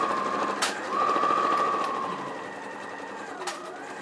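A sewing machine runs a 5/8 seam on a Burda kids' jumpsuit, a steady whirring stitch that surges for a couple of seconds with brief clicks at its start and end, fairly quiet.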